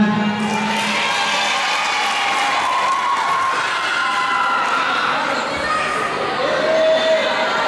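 Students at a new-student orientation night in an Islamic boarding school break into steady, sustained applause throughout, a dense crowd of clapping with some cheering mixed in.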